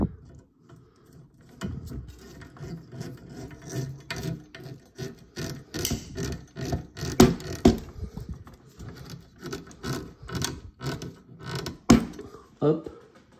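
A small screw is driven into a Toyota Supra die-cast model kit part, heard as close, repeated creaking and ratcheting clicks in uneven bursts, with soft handling noises between them.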